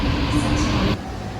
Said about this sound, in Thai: อีกหนึ่งนาทีรถไฟจะมานะครับ เป็นรถไฟอัตโนมัตินะครับ ไม่มีคนขับ